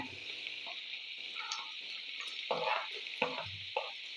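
Chopped onions and finely diced carrots fry in oil for pulao, a steady close sizzle with a few scraping stirs of a spoon against the pan.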